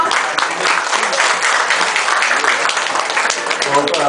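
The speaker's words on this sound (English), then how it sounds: "Please give him a round of applause." Audience applauding the Lord Mayor of Nottingham, Michael Edwards, at an event, a sustained wash of clapping with voices mixed into it.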